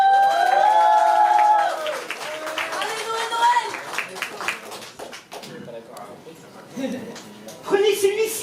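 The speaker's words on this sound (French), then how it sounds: "Veuillez accueillir dans un tonnerre d'applaudissements l'homme que l'on nomme Noël." Audience applause and cheering greet a slammer taking the stage at a slam poetry tournament night, loud crowd noise at first that thins into scattered claps and murmurs, with voices heard over the crowd.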